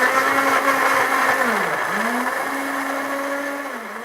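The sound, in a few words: blender blending tomatoes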